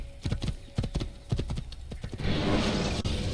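Horse hooves gallop in Assassin's Creed, a quick, loud clip-clop rhythm up close that gives way to a rushing wash of noise.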